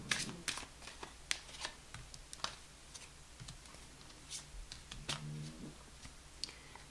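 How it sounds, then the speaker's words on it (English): Quick crisp riffling and clicking of tarot cards being shuffled, close up, in short bursts over a quiet background. "One more shuffle."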